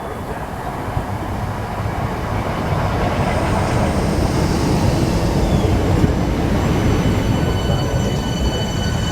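An Electrostar electric passenger train rolls steadily past at St John's station, a loud, continuous rumble of wheels and motors with faint high squeals and rail clatter, close and sustained throughout.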